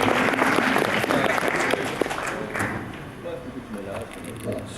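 Conference audience applauding an interpreter's introduction; clapping starts dense and loud, then thins and fades over a few seconds, with a voice talking over it.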